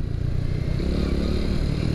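Several motorcycles pass close by on a steep downhill village road in Banjaretno, their engines droning and clattering continuously without a break.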